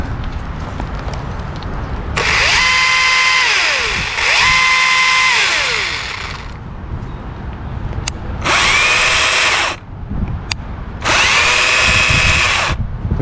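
An electric chainsaw whines loudly in three separate bursts as it cuts through a piece of wood, the motor rising and falling in pitch, then coasting down between runs.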